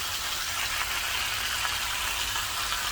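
Sauerbraten meat searing in a hot pan, a steady dense sizzle that holds evenly throughout, close and fairly loud with no voices.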